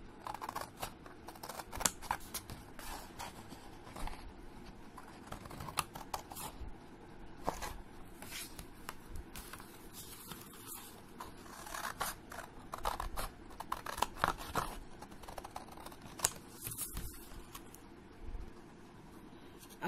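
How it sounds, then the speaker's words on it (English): Scissors snip through paper to cut out a diya shape for a Diwali card, a close run of crisp, irregular cutting clicks and rustles that continues steadily with no talking. "Then we cut it dia with the help of scissor like this."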